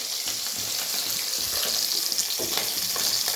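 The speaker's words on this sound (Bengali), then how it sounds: "তো এদিকে আমার মাছ ভাজা কমপ্লিট" Fish fries in a pan in a home kitchen, a dense continuous sizzle and spatter heard up close with faint clinks of handling.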